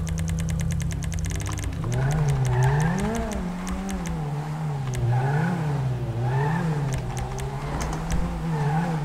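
A Lamborghini Veneno supercar in GTA 5 revs its engine repeatedly, the pitch rising and falling in rhythmic waves after a few sharp clicks at the start, loud and close without any talking.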